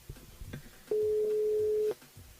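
A phone line rings out once on a radio morning show's switchboard, a single steady electronic tone lasting about a second amid faint background noise, before the call connects.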